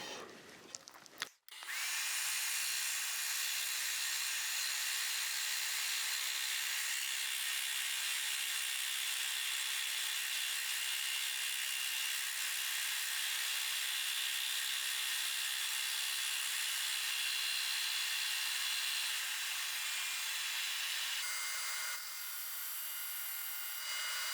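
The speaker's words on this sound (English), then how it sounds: "I'm just going to sand these ends off as well" A power sander works the ends of wooden toy track parts, starting after a short clatter and running as a loud, steady, even whine that drops slightly near the end.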